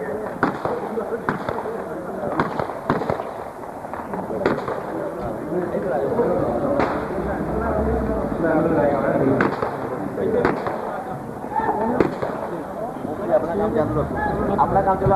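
Fireworks crack and pop repeatedly at irregular intervals during a fireworks contest over a lively crowd, with people talking and chattering throughout.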